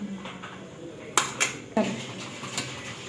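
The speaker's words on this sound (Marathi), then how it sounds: "तर आता ह्या सगळ्या भाज्या आता मी एकत्र करून घेते। सगळा सॉस टाकलेला आणि विनेगर टाकलेलं सगळं एकत्र करून घ्यायचं आपल्याला।" A spoon clatters against a bowl as momo vegetable filling is mixed with sauce and vinegar. There are a few sharp clinks and scrapes over faint background noise.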